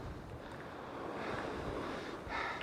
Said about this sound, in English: The wind isn't helping.